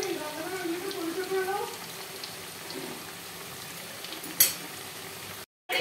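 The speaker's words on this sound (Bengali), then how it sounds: "চিকেনটাও ফ্রাই করা হয়ে গেছে আর কিছুটা এখানে ফ্রাই হচ্ছে।" Chicken frying in a pan gives a steady low sizzle while being gently stirred, with someone talking over it and a brief clatter near the end.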